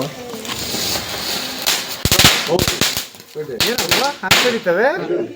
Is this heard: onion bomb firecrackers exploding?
yes